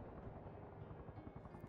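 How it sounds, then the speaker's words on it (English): Helicopter in the combat game Arma Reforger, its steady rotor thrum and low rumble filling the scene throughout, sounding fairly distant and muffled as it arrives. "I see a helicopter coming in"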